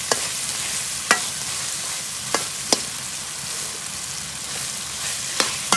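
Potatoes frying in a pan for a desi bongra karahi, a steady hiss of oil with a few sharp scraping stirs or clanks breaking through at irregular intervals.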